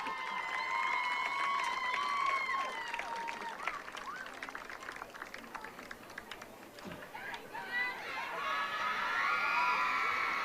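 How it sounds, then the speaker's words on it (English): Cheering crowd in the stands at a high school homecoming football game, with shouts, whoops and scattered clapping rising and falling, voices calling out over a steady roar throughout. "Once again, let's give a big round of applause, Prince Jacob Escalara and Princess Ashlyn G"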